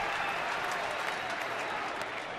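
Dense applause and cheering from a baseball stadium crowd after a strikeout to end an inning, a steady broad wash of clapping that holds at the same level throughout.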